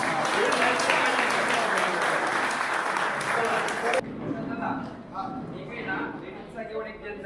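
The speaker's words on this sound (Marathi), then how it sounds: "जोरदार टाळ्या झाल्या" Audience at a community award ceremony in Pune clapping steadily and fairly close, then dropping off abruptly into quieter hall ambience with scattered voices.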